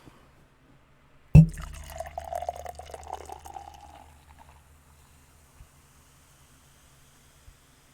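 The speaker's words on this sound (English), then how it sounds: "So, gonna go ahead and pour me a glass." Robert's Spider, a Scotch wee heavy ale from Spider Bite Brewing, poured into a glass: a sudden splash followed by a few seconds of gurgling fill that fades out, then quiet with a couple of faint knocks.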